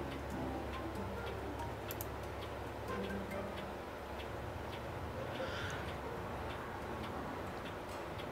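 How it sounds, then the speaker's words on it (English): A clock ticking in a steady, regular rhythm, faint and close, over a low background hiss with no talking. "Oh my god, clock."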